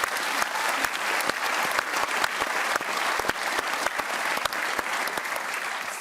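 A studio audience at a televised panel discussion show applauds with dense, steady clapping that stays strong for several seconds, with no voices over it.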